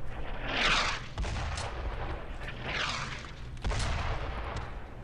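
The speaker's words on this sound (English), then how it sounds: "it's a fucking mortar, are you kidding me?" Mortar fire in Brothers In Arms: Road to Hill 30, deep booming impacts with rushing whooshes and sharp blasts, repeating a few times over a continuous battle rumble.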